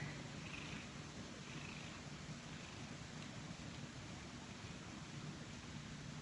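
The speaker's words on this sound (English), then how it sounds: "Oh, she's purring like crazy right now." A steady, soft, close purr from a sedated cat, a continuous low rumble that runs unbroken under faint background hiss, with no talking.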